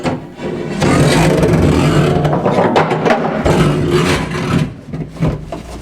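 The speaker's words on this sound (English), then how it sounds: "Now I'll drill an 1¼ inch hole." Power drill boring a 1¼ inch hole down through a vehicle floor for a diesel heater exhaust tube, a loud continuous motor whine with grinding and scraping as the bit bites, steady for several seconds with brief dips near the end.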